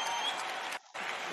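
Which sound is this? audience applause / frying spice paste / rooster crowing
audience applause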